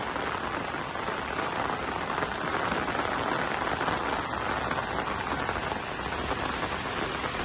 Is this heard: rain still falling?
yes